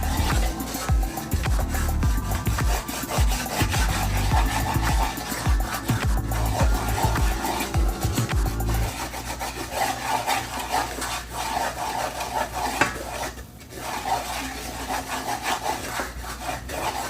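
Butter and flour stirred together in a pot for a roux give a close, steady scraping and rubbing, with rhythmic strokes at first that settle into a softer continuous stir, and no voices.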